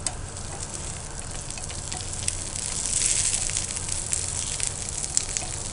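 Curry leaves with green and red chillies sizzling in hot oil for a South Indian paneer capsicum fry, a steady loud crackle and spit with occasional sharper pops.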